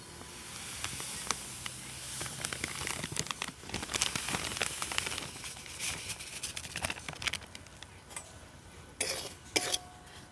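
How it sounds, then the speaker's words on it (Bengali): Semolina frying in ghee in a wok, with a soft sizzle under repeated scraping and stirring clatter of a utensil against the pan, close and fairly quiet. "আবারও অল্প একটু ঘি দিয়ে দেব আর ওই যে দশ টাকা দামের সুজির প্যাকেটটা নিয়েছিলাম সুজির প্যাকেটটা এই ঘের মধ্যে দিয়ে একদম হালকা করে ভেজে নেবো"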